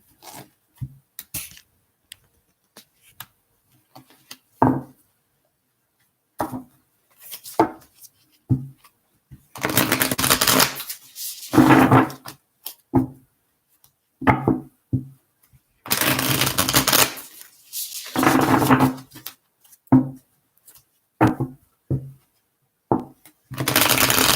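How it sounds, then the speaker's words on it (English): Tarot-style cards are shuffled and split for a reading, with intermittent riffling bursts, soft taps and card handling sounds separated by silences, close and distinct. "And then going back to shuffling."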